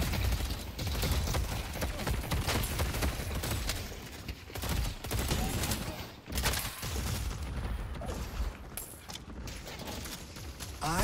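Photoplasm firing ability in the Deadlock video game sounds as a dense stream of rapid gunfire-like bursts and mechanical clatter, loud and continuous with brief dips in intensity.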